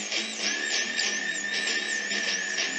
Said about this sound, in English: Doing some drilling.